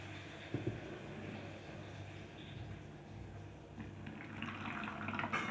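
Water is poured steadily into a homemade rain gauge in a classroom, a faint continuous trickle that brightens toward the end as the container fills.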